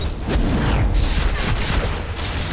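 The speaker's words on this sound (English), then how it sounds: "the best thing is to clip it with the gauss grenade" A gauss grenade detonates in the DC Universe Online video game during a gadget-loadout PvP fight, a loud booming blast with a rising whine and crackling debris filling the short burst.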